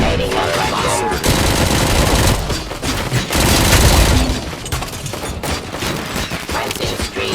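Dense, loud bursts of automatic gunfire and heavy impacts from the Robocop: Rogue City video game, with rapid shots crackling in clusters and booming hits between short pauses.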